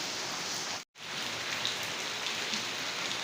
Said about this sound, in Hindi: बारिश शुरू हो गई है